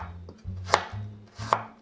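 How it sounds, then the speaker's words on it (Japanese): A knife julienning carrots, green peppers and red onion on a board lands two crisp, separate cuts about a second apart over a low, steady hum. "じゃあこれをね、全部千切りにしましょう。"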